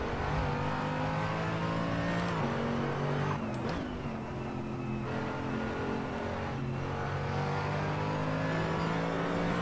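A McLaren race car in Assetto Corsa revs hard, its engine note climbing and dipping through quick gear changes. The drone stays loud and continuous throughout, with no voices over it.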